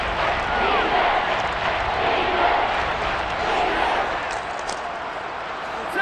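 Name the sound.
crowd cheering in Madden football video game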